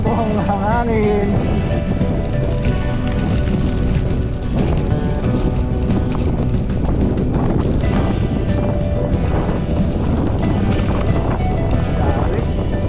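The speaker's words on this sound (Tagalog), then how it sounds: "Salubong ng hangin." Strong headwind buffets the microphone on a ride across open farmland in Cuyapo, Nueva Ecija, a constant loud rumbling roar with a voice talking underneath.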